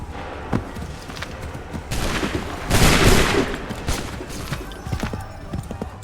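A musket volley rings out in Assassin's Creed III, scattered shots building into a loud ragged crack of massed fire at close range, then trailing into lighter pops and hoofbeat-like clatter.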